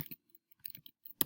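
Keys clatter on a computer keyboard in short, uneven bursts of quiet clicks with gaps between them, close by and with no voices.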